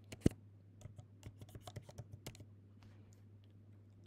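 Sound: typing on a keyboard

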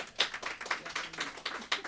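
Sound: applause for Mayor Carpenter at meeting

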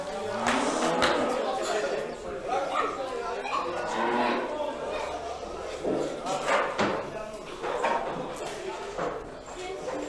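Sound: cattle mooing at a livestock market

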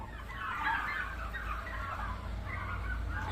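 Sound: turkeys

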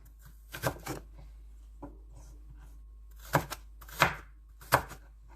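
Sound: chopping carrot into sticks

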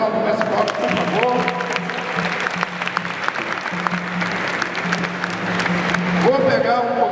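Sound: audience applause at capoeira event

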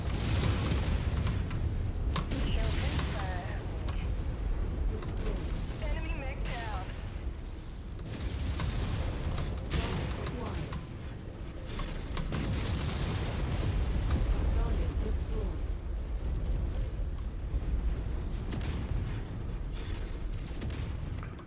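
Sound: mech weapons fire and explosions in MechWarrior 5 video game

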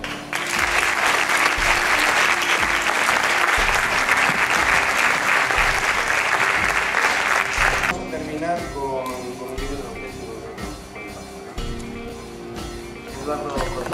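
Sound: audience applause

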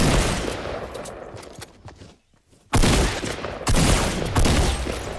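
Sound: suppressed gunfire in the Fortnite video game

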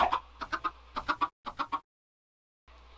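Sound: chickens clucking in a survival video game

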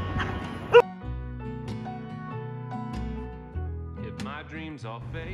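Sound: dog barking in Madison Square Park

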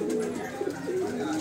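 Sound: pigeons cooing

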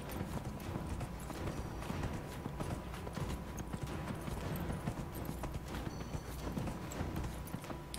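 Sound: horse galloping hooves, from a video game

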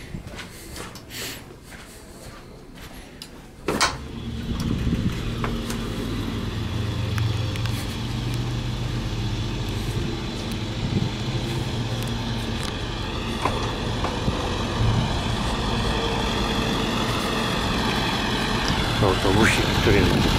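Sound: small bus engine idling

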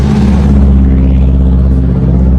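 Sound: taxi car arriving, engine revving

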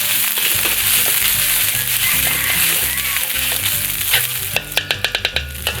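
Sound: metal spatula hitting wok while stir-frying

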